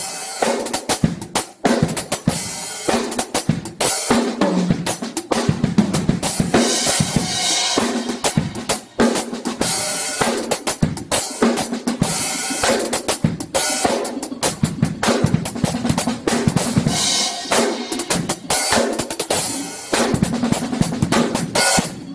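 Full drum kit played continuously, with 12/8 fills over a 4/4 pulse: dense, loud, rapid hits of snare, toms and cymbals in a busy polymetric pattern.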